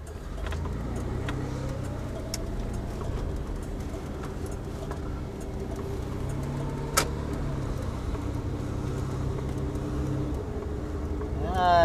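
Van cruising through Santa Cruz near the beach boardwalk, its steady engine and road rumble running throughout, with a voice talking over it and a brief sharp sound near the middle.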